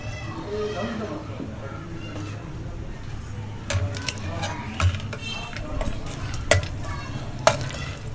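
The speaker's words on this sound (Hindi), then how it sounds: "अब डाल देंगे सारे ड्राई फ्रूट और हल्की आंच पे फ्राई करेंगे ताकि अच्छा सा कलर आ जाए।" Dry fruits fry in desi ghee in a frying pan over low heat, giving a soft sizzle with scraping stir strokes and light utensil clinks, while a person talks over the cooking.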